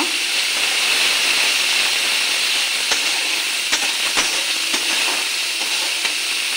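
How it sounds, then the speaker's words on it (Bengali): Spice paste (masala) frying in oil over low gas heat for a Bengali small rohu fish and yardlong bean curry, a steady hiss with a few sharp pops and crackles near the end. "মশলাটা আমি গ্যাসটা কমিয়ে কষে নিয়েছি।"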